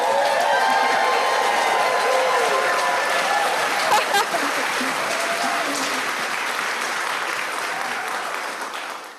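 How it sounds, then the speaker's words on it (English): A church congregation applauds during a music-focused Sunday service, with full, steady clapping and some cheering and murmured voices that gradually fade toward the end. "the applause is to you."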